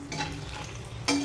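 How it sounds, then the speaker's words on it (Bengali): Dried red chillies hit hot oil in a pan with a soft hiss and crackle, then a louder burst of sizzling near the end. "এই তেলের মধ্যে দিয়ে দেবো শুকনো লঙ্কা,"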